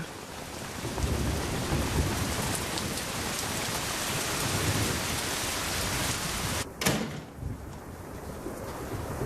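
Heavy rain pours steadily while thunder rumbles low and long, with a sharp crack near the end.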